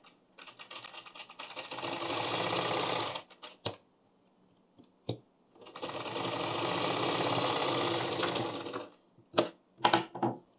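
A sewing machine stitching blouse strips together runs in two steady bursts of rapid whirring stitching, each about three seconds long, with short clicks and pauses between them and after.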